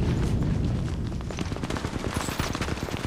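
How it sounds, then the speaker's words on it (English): Gunfire in the Apex Legends Mobile video game: rapid bursts of automatic shots crackle in quick succession, loud and close, with no talking. "Shots fired and they're hitting me."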